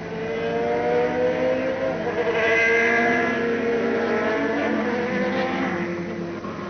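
Le Mans race cars from 1991, including the Mazda 787B, pull away from the grid for the warm-up lap behind a leading Peugeot Talbot 905, their engines droning and revving together loudly and steadily, with no talk.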